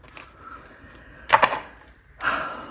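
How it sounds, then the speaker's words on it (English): Tarot cards being shuffled by hand: two short, papery riffling bursts, close and fairly soft, separated by quiet pauses. "All right, one more shuffle."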